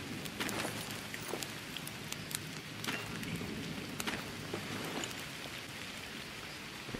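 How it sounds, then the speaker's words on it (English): Steady rain in the video game Green Hell patters on a surface, with scattered sharper drops hitting nearby throughout. "starting to rain."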